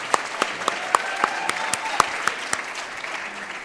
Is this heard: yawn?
no